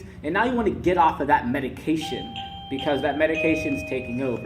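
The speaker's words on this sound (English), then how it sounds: "that's the doorbell for the gym" A gym doorbell chimes in sustained, steady electronic tones partway through, sounding under and alongside continuous close male speech.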